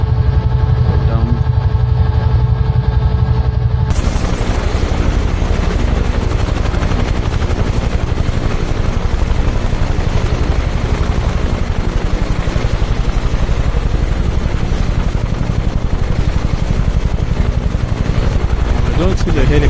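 A Bell UH-1 Huey helicopter in Microsoft Flight Simulator 2020 near the Matterhorn, its rotor chop and turbine whine loud and steady throughout, with a quieter idling tone at the start before the full sound kicks in.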